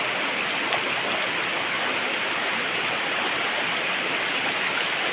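A river flows steadily in a broad, continuous wash of rushing water, close and even in level throughout, with no voices.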